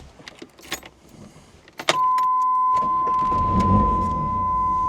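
A car that has sat in a junkyard starts up after some rustling and clatter, then a steady engine idle with a thin whine settles in close by and runs on without talk.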